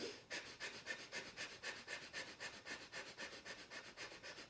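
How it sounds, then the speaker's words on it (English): Fast, forceful rhythmic breath-of-fire breathing, about four sharp puffs per second, steady and close, with no talking. "the difference between long, deep breath and the breath of fire is that now you're going to do this fast"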